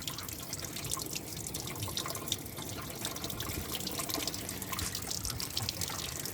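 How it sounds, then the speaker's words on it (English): Water poured over a 2021 Subaru Outback running through and dripping out of a floor hole with the grommet removed, a steady trickling and splashing stream with scattered drips, close and fairly faint, with no talk. "You put water in up here when it rains. This will be just a standard little rain, just like that."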